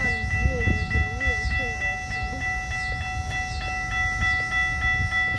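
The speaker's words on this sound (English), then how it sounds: "A Metra train." Metra commuter train rolling past at a station, a steady rumbling roar with high sustained tonal squeals and a brief horn-like tone, while people talk nearby over the noise.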